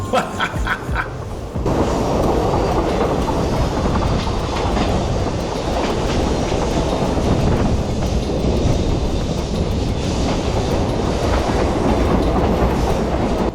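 A passenger train in Jamaica rumbles steadily along the rails with rhythmic clacking, loud and close, after a brief quieter start, approaching Bog Walk railway station.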